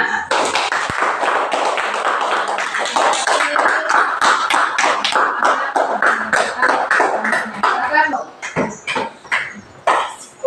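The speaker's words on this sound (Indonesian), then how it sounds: "beri tepuk tangan untuk kita semua" Students in a classroom clap together, a loud close burst of fast, uneven handclaps that thins out toward the end.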